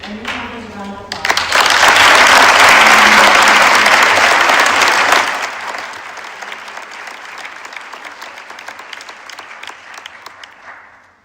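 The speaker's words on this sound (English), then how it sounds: "Ladies and gentlemen, please give our new members a round of applause." Loud audience applause at a school academic awards ceremony welcoming new members, swelling into dense sustained clapping for a few seconds before thinning to scattered claps and fading out.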